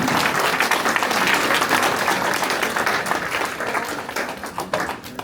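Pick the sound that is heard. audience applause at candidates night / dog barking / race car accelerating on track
audience applause at candidates night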